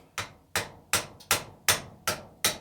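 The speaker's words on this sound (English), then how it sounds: "I'm just tapping on it. I'm not hitting it super hard." A hammer taps a bolt to drive a part out of a vintage RCBS A2 reloading press: seven light, sharp metallic knocks at an even, unhurried pace, close by and alone.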